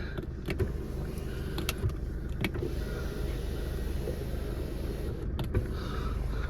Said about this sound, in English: Tilt side panoramic roof all working.